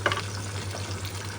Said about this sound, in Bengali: এটা একটুখানি লবণ দিয়ে একটু ঢেকে ঢেকে আমি ভেজে নেব।